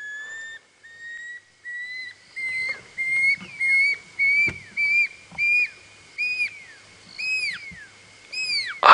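A bird on a sunset safari drive repeats a run of sharp whistled notes, rising in loudness and pace across the stretch, with faint background rustle and no talk.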